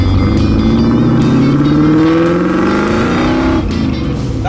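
A Firebird with an untuned engine straight out of the box accelerates hard, its loud, close engine roar climbing steadily in pitch for several seconds before easing slightly near the end, with no voices.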